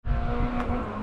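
Rally car engines roar loudly and continuously, revving high with a brief tire screech partway through.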